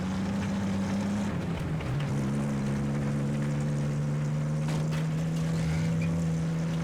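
A T-60 tank engine in a video game roars steadily inside an underground tunnel, a loud continuous low drone with a shifting pitch partway through, echoing with no talk over it.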